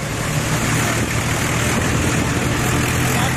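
Tractor driving through a flooded street, a steady loud engine drone mixed with broad rushing, churning water noise, continuous and close.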